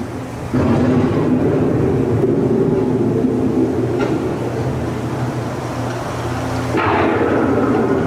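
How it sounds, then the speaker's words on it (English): A thunderstorm effect plays on the EPCOT Living with the Land boat ride at night, during the Christmas overlay. It is a loud, sustained rumbling roar with brief cracks, filling the space continuously. "The approaching storm may seem violent and destructive to us, but to nature, it's a new beginning in the cycle of life."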